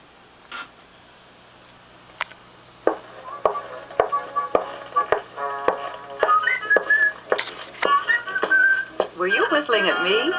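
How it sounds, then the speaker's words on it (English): Someone whistles a lively, wavering tune over steady ticking clicks that build up, with a voice speaking alongside, played from a Bell-O-Matic Model 603 sound tape cartridge player. "Were you whistling at me?"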